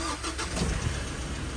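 A car engine with electronic power steering, just repaired and jacked up, turns over and catches, then runs with a steady, close, loud rumble.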